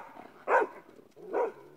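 Outdoors, a dog gives two separate barks about a second apart, each short and fairly close, with quiet background between them.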